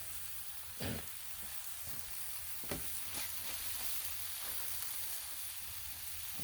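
Homemade ghee sizzles on a Blackstone griddle with a continuous close hiss, broken by a few brief scraping or popping accents.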